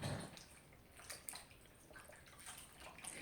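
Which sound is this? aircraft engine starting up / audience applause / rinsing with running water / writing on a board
rinsing with running water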